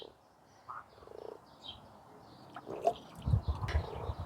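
Frogs croaking in a small pond, scattered low croaks and trills near and farther off, with a few louder calls toward the end.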